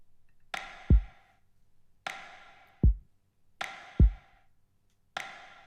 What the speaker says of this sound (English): Oh, I'll just show you the drum, the beat